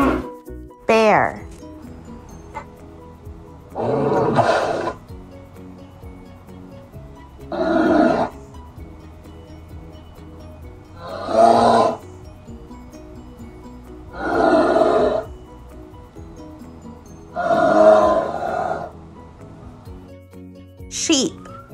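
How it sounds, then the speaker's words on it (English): A bear growls and roars in a slow, regular series of about six loud, close bursts with quiet pauses between them. "Bear."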